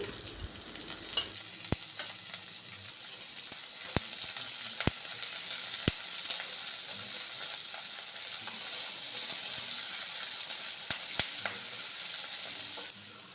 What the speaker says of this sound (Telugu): వేసుకుని వీటిని మంచిగా కలర్ వచ్చేంత వరకు వేయించుకోవాలి.